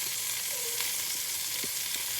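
Pork chops fry in a pan with sage, giving a steady, close broadband sizzle with faint crackles and a brief stir or scrape, no talking over it.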